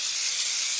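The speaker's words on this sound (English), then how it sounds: "So I spray these kind of good because I don't want my meatballs to stick" A short, steady hiss of canola oil cooking spray is applied to a pan before it is used for homemade meatballs. The bright, close spray sound lasts under a second, with no talking.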